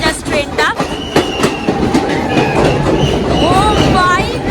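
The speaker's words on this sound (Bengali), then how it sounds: "এই যে টানেলটা ঢুকছে জাস্ট ট্রেনটা" A passenger train on the Kolkata to Madgaon line nears Dudhsagar Falls and enters one of its many tunnels. A steady loud rumble with wheel clatter runs throughout, with voices talking over it.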